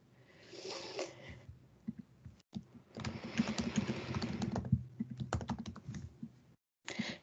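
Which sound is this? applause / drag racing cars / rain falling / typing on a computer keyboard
typing on a computer keyboard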